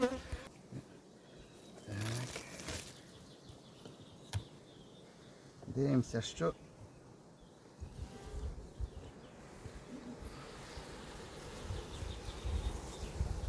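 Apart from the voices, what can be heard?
honey bees at a hive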